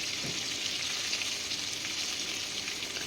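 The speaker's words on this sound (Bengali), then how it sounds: "বেগুনগুলো আমার প্রায় ভাজা হয়ে এসছে" Brinjal (eggplant) pieces fry in a pan, giving a steady, dense sizzle that holds evenly at moderate loudness throughout.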